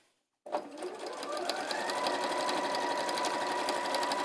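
A sewing machine stitches a fabric tote bag seam, starting abruptly after a brief silence and then running steadily and close with a continuous motor whir and rapid needle rhythm.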